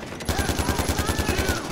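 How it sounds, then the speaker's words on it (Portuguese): Rapid automatic gunfire from the video game Far Cry 4 rattles in an even burst of about a dozen close, loud shots with no talk. "Eles nem vão saber de onde está vindo o tiro, cara."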